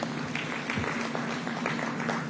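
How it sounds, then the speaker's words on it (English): Audience at a high-level economic growth forum applauds steadily, a dense even wash of clapping from a large hall with no voices over it. "Another round of applause for him."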